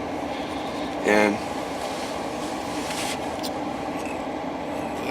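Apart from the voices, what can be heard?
freight train of coal cars passing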